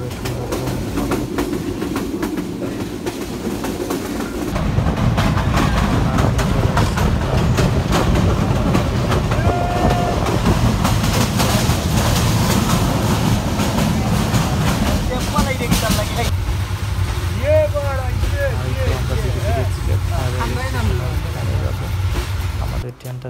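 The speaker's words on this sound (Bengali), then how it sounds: "আমাদের ট্রেনটা থেমে যাবে একটু পরে।" The Paharika Express passenger train running between Kulaura and Sylhet, a loud steady rumble with rhythmic clickety-clack of wheels over rail joints heard from inside, with a voice talking partway through.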